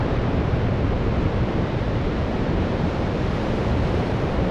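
AI-generated ocean waves give a steady, dense roar of surf and wind, loud and unbroken throughout, with no separate breakers standing out and no voices.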